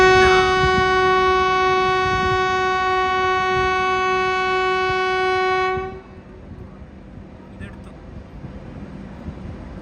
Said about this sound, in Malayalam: സത്ന റെയിൽവേ സ്റ്റേഷനിലേക്ക് നമ്മുടെ വണ്ടി എത്തിക്കൊണ്ടിരിക്കുക